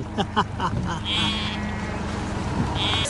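Sheep bleat a couple of times in the Scottish Highlands over a steady engine-like drone, with faint talk in the background.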